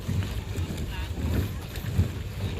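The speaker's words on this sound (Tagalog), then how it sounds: "Mabilis lang yung bangka." A boat motors across water near Boracay, Philippines, its low engine drone steady throughout with wind buffeting the microphone and faint voices in the background.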